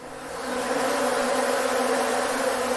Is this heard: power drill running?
no